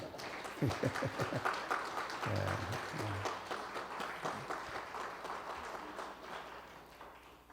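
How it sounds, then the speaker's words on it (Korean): A church congregation applauds during a Sunday afternoon service, many hands clapping in a full, steady burst that gradually thins, with a voice briefly heard near the start. "사모님도 저 뒤에 왔는데 고생했는데 한번 박수 한번 해주시면 좋겠습니다"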